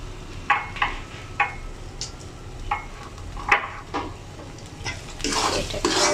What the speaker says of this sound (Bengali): এইভাবে নেড়ে নেড়ে শুকিয়ে নেব